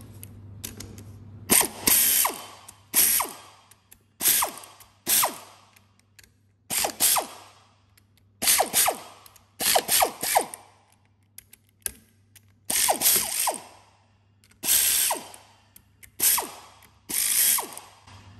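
A ratchet loosening the engine head bolts on a Chevrolet Cruze during a head gasket replacement, bursts of rapid metallic clicking repeated about a dozen times with short pauses between, close and loud.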